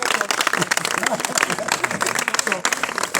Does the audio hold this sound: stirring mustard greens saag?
no